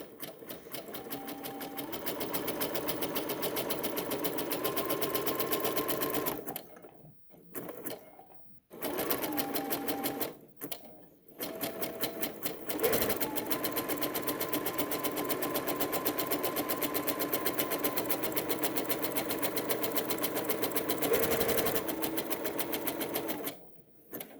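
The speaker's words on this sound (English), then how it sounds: "make sure it's nice and flat as you stitch over it." Sewing machine stitching along a dress seam in long, fast, steady runs, with several short pauses and restarts, close and loud, no talk.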